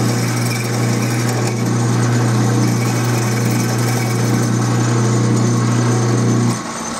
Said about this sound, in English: So I'm going to drill this out and tap it